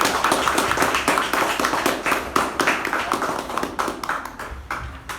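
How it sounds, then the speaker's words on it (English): Audience applause at a Toastmasters meeting fills the room, a dense, steady patter of many hands clapping close by for several seconds without a break. "let's give a huge round of applause for Toastmaster Karthik for his icebreaker"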